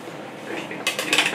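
A pumpkin muffin tray comes out of an oven: soft rustling and handling first, then two brief metallic clanks of the pan close by.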